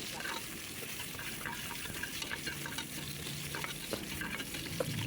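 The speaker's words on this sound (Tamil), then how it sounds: "இது நல்லா ப்ரௌனிஷ் ஆகிற வரைக்கும் வதக்கலாம்" Chopped onion sautéing in a pan until brown: a soft, constant sizzle with faint scraping and stirring throughout, fairly quiet and unbroken.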